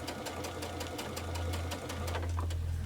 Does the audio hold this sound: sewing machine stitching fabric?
yes